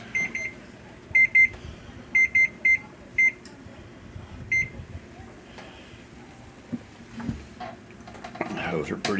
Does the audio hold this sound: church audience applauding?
no